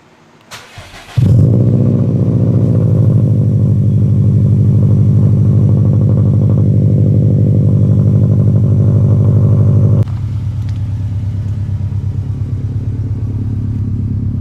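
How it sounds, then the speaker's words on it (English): A 2018 Subaru WRX STI with a new downpipe exhaust starts with a short crank, catches into a loud, rumbling idle held for several seconds, then settles to a slightly lower idle, recorded close with no voices. "got the new downpipe on. Getting ready to fire it up."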